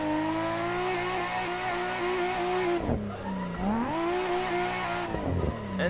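Drifting cars in a racing video game, driven with a Logitech G920 wheel on Corsa tires, run tandem with a steady high engine whine and tire squeal, the pitch dipping and climbing as the cars shift and slide.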